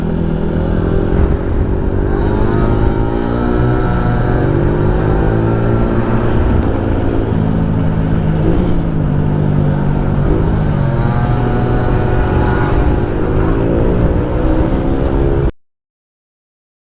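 A car engine drives along loud and close, its steady drone shifting in pitch as it speeds up and changes gear, with wind rumble, until it cuts off abruptly near the end.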